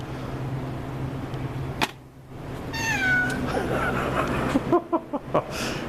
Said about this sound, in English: this is my very loud shop cat today. Wow, she's just screaming.